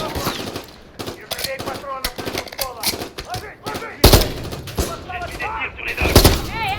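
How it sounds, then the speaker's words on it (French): Rapid automatic gunfire and bursts of shots in the Call of Duty: Modern Warfare 3 campaign on a snowy sniper mission, loud and dense, with two especially heavy blasts late on, mixed with in-game voices talking. "Excuse-moi Farah, je tire sur tout le monde."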